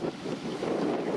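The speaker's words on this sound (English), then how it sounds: "hopefully that wind isn't really messing up the audio" Wind beside a pond near a dam buffets the microphone with a continuous, fairly loud low rumble and muffled roar, no voices over it.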